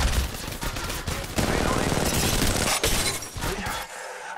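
Gunfire in an Apex Legends match, a dense, loud burst of rapid shots and cracking impacts running almost without pause before cutting off near the end.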